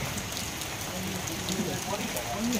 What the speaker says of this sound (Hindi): और अभी बहुत तेज बारिश हो रही है।